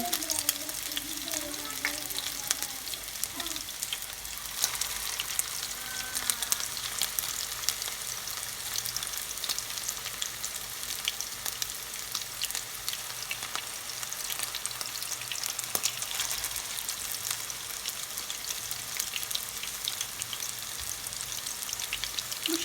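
Meatballs crackle and sizzle steadily in hot oil, a dense close-up frying hiss that runs throughout, with faint voices briefly underneath at the start.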